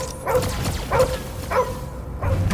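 Cosmo the space dog barks in the Guardians of the Galaxy video game, three or four sharp, loud barks at a steady pace set against game ambience.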